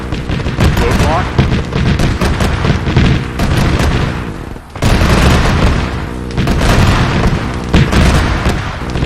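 A Leman Russ tank from the Warhammer 40k setting in ARMA III pounds a roadblock with repeated loud booming cannon shots mixed with rapid gunfire. The barrage is close, dense and continuous, with a brief lull midway.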